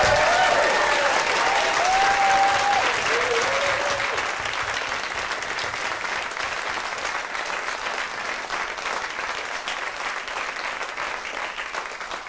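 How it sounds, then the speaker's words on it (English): Sustained, loud audience applause at a televised ballroom dance competition final, dense steady clapping from a large crowd with some cheering early on, gradually easing slightly over twelve seconds. "massive, massive round of applause."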